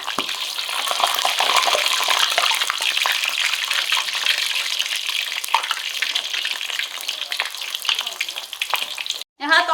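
Crispy pork belly fries in hot oil with a dense, continuous sizzle and crackle that stays loud and even, then cuts out briefly near the end as the pieces are turned.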